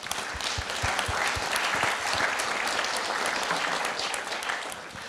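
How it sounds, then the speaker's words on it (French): Sustained audience applause after a round-table discussion, a dense steady clapping from a seated crowd lasting several seconds. "Je pense qu'on peut vous applaudir."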